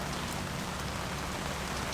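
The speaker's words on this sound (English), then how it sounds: "hiding from the rain." Heavy rain pours steadily on a small 6x4 camping tent at an urban campsite on Cockatoo Island, a dense, even hiss of drops drumming close on the fabric with no let-up.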